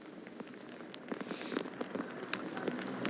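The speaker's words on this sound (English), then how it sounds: "It's just sleet and freezing rain everywhere, all over." Sleet and freezing rain falling outdoors during a Kentucky winter ice storm, a dense continuous patter of tiny icy ticks, steady and fairly quiet with no voices.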